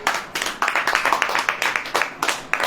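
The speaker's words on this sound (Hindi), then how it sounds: "ताली बजाओ।" A church congregation claps hands in a steady, brisk rhythm, many sharp claps in a row, close and fairly loud, with no talking over them.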